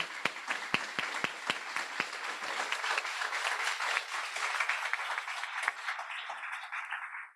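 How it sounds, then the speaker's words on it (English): A graduation ceremony audience gives one last round of applause for the June class: a few sharp nearby claps lead into a steady wash of clapping that slowly thins and tapers off at the end. "one last round of applause for our June class"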